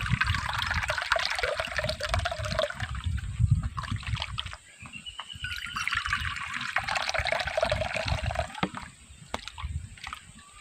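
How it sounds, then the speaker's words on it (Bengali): Water is poured and stirred into a thin rice flour batter for papad, giving a close, continuous slosh and trickle with scraping and tapping of the bowl. "আরও দু বাটি জল মিশিয়ে নেব"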